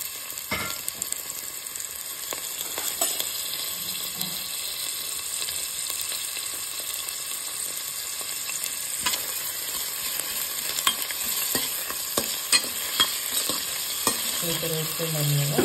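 Green chilies, onion, bay leaf and mint fry in hot oil for methi pulao, a constant soft sizzle broken by scattered clicks and scrapes of a stirring utensil, close by.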